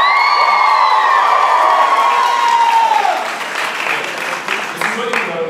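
Live audience applauding and cheering a performer named Sarah at a spoken-word event, loud and dense at first with whoops and shouts, then fading into scattered clapping and crowd murmur.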